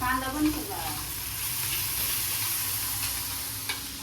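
Finely chopped onion and tomato cook in a pan for homemade pav bhaji, giving a continuous close sizzle and frying hiss with faint stirring, and no voices.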